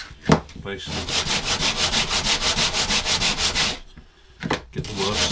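Softwood turning on a lathe is sanded with 80 grit abrasive, giving a steady, rhythmic scratchy rasp with even strokes that breaks off briefly before resuming. A voice speaks briefly near the start.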